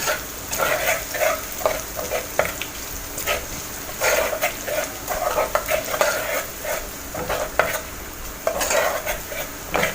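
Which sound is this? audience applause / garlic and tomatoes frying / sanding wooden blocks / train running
garlic and tomatoes frying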